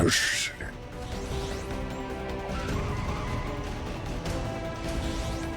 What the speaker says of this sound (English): you hear the sound of a car crashing into a wall